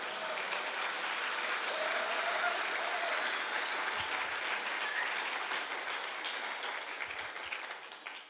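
Audience applause for the sound technicians at a church service led by Mamadou Karambiri, a steady wash of many hands clapping that holds throughout and thins slightly at the end.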